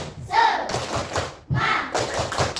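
A primary school class does a rhythmic clapping chant, tepuk semangat, with bursts of group clapping and children's voices chanting together in a classroom.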